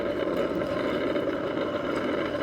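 A tractor engine rumbles steadily and loudly along a busy highway near Farukh Nagar, with trucks and other traffic on the road and no talk over it.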